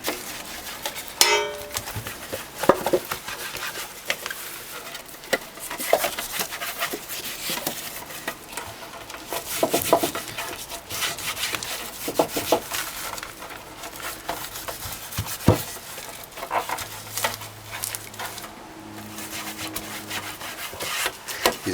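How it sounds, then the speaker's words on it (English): Butter is rubbed around a baking tin with grease paper for banana bread: soft, irregular scraping and rubbing strokes with light knocks of the tin, close by and steady, with no talking. "Now with a little butter and a piece of the grease paper, grease your can thoroughly."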